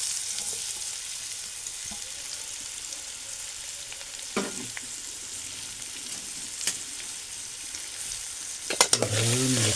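Chopped onion and tomato sizzle steadily in a pan of hot oil for Konkan-style kulith amti. The loud, even frying hiss runs throughout, with a few stirring scrapes and clinks near the end.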